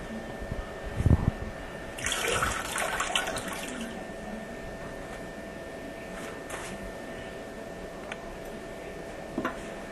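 A burst of rushing, gurgling water draining from a toilet tank starts abruptly, flows for a couple of seconds, then tapers into a quiet trickle with faint drips.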